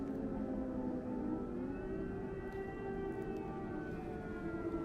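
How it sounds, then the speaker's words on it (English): An air raid siren wails at night over Kyiv, a steady sustained tone that slowly bends in pitch, heard from a distance across the quiet city with no voices. "It sucks the sirens sound at night when people start to go to bed."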